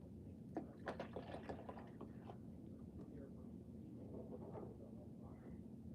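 Homemade fruit juice wine is poured out of a bottle in a faint, soft liquid trickle and splash lasting several seconds, set low against a steady background hum.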